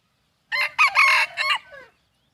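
A single twelve-month-old fighting-breed rooster crows nearby, a loud multi-part call lasting about a second and a half, then silence.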